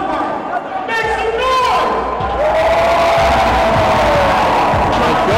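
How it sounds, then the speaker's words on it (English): A crowd at an MMA fight at the Georgia National Horse Park in Conyers cheers and whoops loudly, with an announcer talking over the steady roar. "The Georgia National Horse Park crowd and Conyers appreciating the effort from the 27-year-old Ross and the 21-year-old Poythress"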